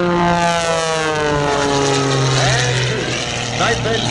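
A propeller aerobatic airplane dives at an air show in Vero Beach, the engine note loud and sweeping downward in pitch as it accelerates toward the bottom of the dive, with announcer speech over the public address.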